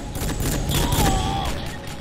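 Combat in the Rogue Trooper shooter: a dense, loud burst of rapid gunfire and booming blast, continuous across the moment with a rising whine layered over the noise.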